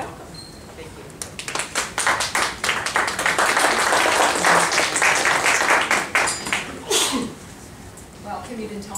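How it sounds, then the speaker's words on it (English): Audience applause at a business presentation welcomes a speaker onto the stage, a dense burst of many hands clapping that swells over several seconds, then fades out as a voice starts talking. "you didn't tell me I was going to get applause"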